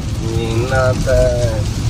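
Heavy rain while driving along a road, a steady dense wash of noise that lasts the whole stretch, with a voice-like tonal sound over it.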